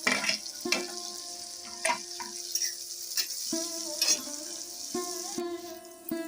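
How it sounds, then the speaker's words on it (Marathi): Chopped onions frying in oil in a pan until brown, heard as a close, continuous sizzle broken by repeated stirring knocks and scrapes of a spoon against metal, with no talking. "त्यामध्ये आपल्याला कांदा ॲड करायचा आहे अशा प्रकारे चांगला ब्राऊन होईपर्यंत फ्राय करून घ्यायचा आहे"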